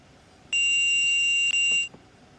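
The SIFA vigilance alarm in the Train Sim World 2 game on the Main Spessart Bahn, a loud steady electronic tone lasting just over a second, briefly broken once, then cut off.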